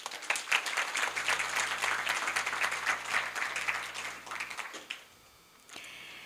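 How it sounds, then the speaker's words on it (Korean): An audience at a Korea University business school startup showcase applauds warmly, a dense wash of claps running for about four and a half seconds before fading out to quiet room tone. "따뜻한 박수 부탁드립니다."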